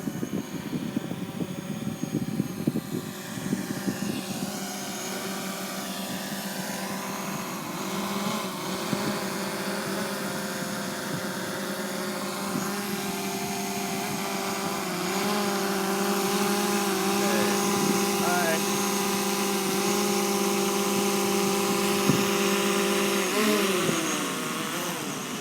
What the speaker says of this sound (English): that was our little live drone flight around Boot Key Harbor, including a hand launch and a hand landing